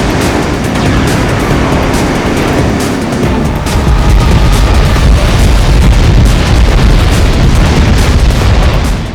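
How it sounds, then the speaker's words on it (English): Missiles explode in the vehicular combat game Twisted Metal Head On, a loud, continuous roar of booming blasts that swells in the second half, with no talk over it. "let's launch 2 more missiles"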